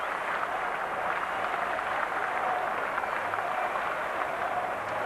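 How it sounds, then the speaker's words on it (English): A cricket crowd at the 1997 NatWest Trophy Final between Essex and Warwickshire applauds Paul Pritchard reaching fifty, with steady, even clapping from a large crowd throughout. "And well applauded by his Essex teammates."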